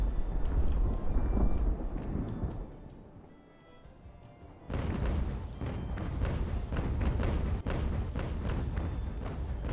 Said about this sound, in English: Some long-range shooting there.